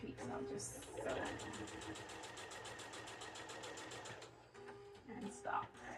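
A sewing machine runs in a steady rapid stitching burst for several seconds while a mineral matrix quilt is finished, with a faint voice at the start and end.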